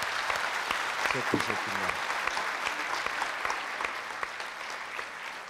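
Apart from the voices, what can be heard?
studio audience applause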